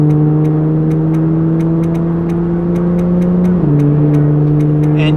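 An Audi S4 cruises with a steady engine drone that holds a constant pitch, then drops slightly as it shifts, heard loud from inside the car with regular faint ticks and no talk.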